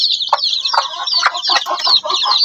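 A flock of healthy two-week-old chicks chirps nonstop, with dense, overlapping high peeps and a few lower clucking calls, close and steady throughout.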